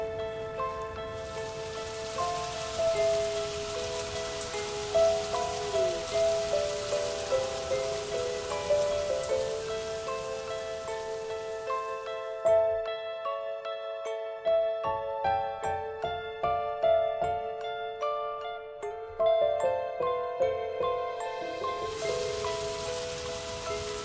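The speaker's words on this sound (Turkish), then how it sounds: "Yağmur başlasın." Artificial rain from sprinklers pours down on a film set as a steady hiss, largely masked by a soft melodic music track that plays throughout; the hiss drops out briefly midway and then returns.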